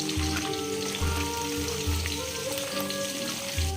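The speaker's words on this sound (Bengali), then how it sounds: "আলুটাকে আমি ভেজে নিচ্ছি মাংসের আলুটাকে ভেজে নিচ্ছি আমি নুন আর হলুদ দিয়ে একটু ভেজে নিচ্ছি" Potato pieces frying in oil with salt and turmeric, a steady dense sizzle and crackle throughout, close and fairly loud, with a low periodic hum underneath.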